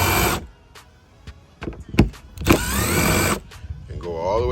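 A power drill backs screws out of a jet ski deck. Loud whirring bursts open and close the stretch, with clicks and knocks between them and a short rising whine near the end.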